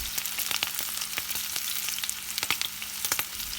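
Lady's finger (okra) fries in a pan of hot oil, giving a dense, steady sizzle with crackling pops throughout, close and fairly quiet.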